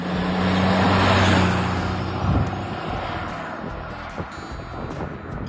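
Low rumbling engine note of a patina-covered, rusty rat rod car, loud at first then settling into a rougher, fainter idle with a brief hiss and wind noise, with no talking.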